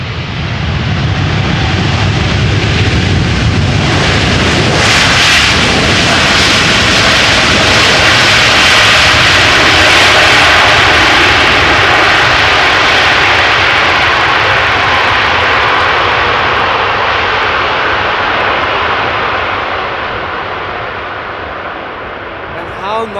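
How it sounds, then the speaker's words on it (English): A KLM Boeing 777 landing at Amsterdam Schiphol in gusty crosswind, thrust reversers roaring: a loud, sustained broadband jet rumble that holds strong for most of the stretch, then slowly eases off near the end. "A KLM 777 pilot knowing how to use the lever of the thrust reverser."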